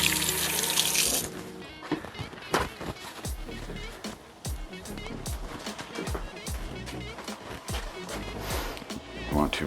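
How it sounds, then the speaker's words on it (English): Hands being rinsed under a running kitchen tap after handling ground beef, a steady splashing water flow with sharp clatters and bumps, close by. "Wash off my hand."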